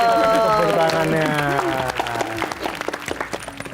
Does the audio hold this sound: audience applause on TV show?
yes